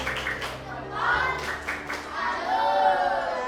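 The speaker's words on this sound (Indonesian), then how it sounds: "kita beri tepuk salut untuk kelompok 5" A primary school class gives the rhythmic 'tepuk salut' group clap for a presenting group, with short bursts of hand claps and children's voices in a classroom.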